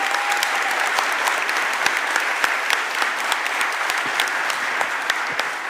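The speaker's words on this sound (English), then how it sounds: "let's give them a round of applause" A Philadelphia City Council chamber audience applauds Labor and Industries staff as first responders, sustained even clapping with sharp individual claps standing out.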